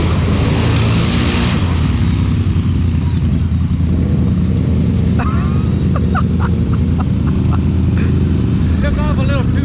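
A Polaris off-road vehicle engine roars loud and close, revving as it launches through shallow mud holes, with sloshing water and rumbling under shouting voices.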